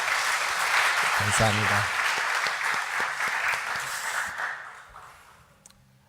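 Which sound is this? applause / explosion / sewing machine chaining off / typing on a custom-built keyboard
applause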